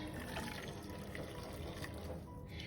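Boiled water pours steadily into a small saucepan, a continuous close splashing and trickling that holds through the whole stretch.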